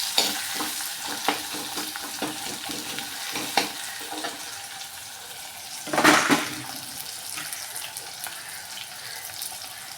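Vegetables sizzle and fry steadily in a pan for a Tamil-style vatha kuzhambu base, with occasional stirring clatters and a louder scrape or splash around the middle, close and continuous without talk.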